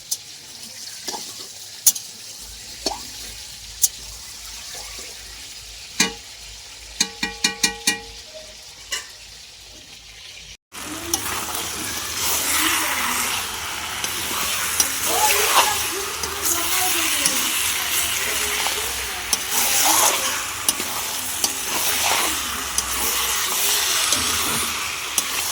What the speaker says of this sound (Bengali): দেখতে পাচ্ছ আলু ভাজছি।